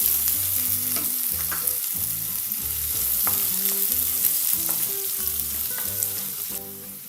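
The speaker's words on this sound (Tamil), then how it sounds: "ஃப்ரை பண்ணிட்டு இதில் நம்ம துண்டு துண்டாக நறுக்கி வச்ச ஆனியன் ஆட் பண்ணிக்கலாம்." Chopped onion fries in hot oil in a pan for kohlrabi kurma, giving a continuous close crackling sizzle. A spoon scrapes and stirs in a steady, repeated rhythm.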